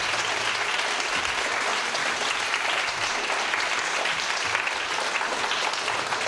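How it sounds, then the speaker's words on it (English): A crowd applauds for Aurora after her song at a Unitarian service, steady dense clapping that fills the room at close range without pause. "let's give a hand to Aurora"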